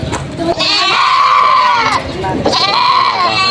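Two long, loud native goat bleats ring out up close at a livestock market in Padre Garcia, Batangas, one after another, with a brief pause and some faint background noise between them.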